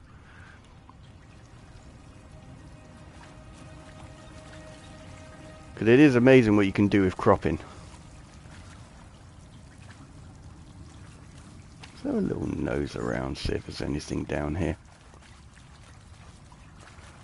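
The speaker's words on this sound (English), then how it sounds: "the water effect here is amazing" Flowing water in the video game Horizon Zero Dawn makes a steady, soft rush that runs through the whole scene, with someone talking over it in two bursts.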